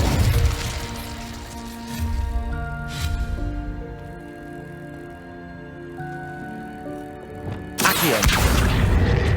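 Incendio fire spell cast in Hogwarts Legacy, heard as loud rushing bursts of flame at the start and again near the end, with sustained musical tones ringing between them.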